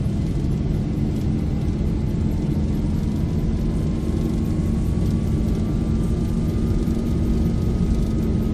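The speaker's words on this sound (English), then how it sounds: "Takeoff thrust set." Boeing 737-8 engines at takeoff thrust in the X-Plane 12 flight simulator, a Virgin 737-8FE departing Sydney: a loud, steady roar with a slowly rising whine running through it, and no talk.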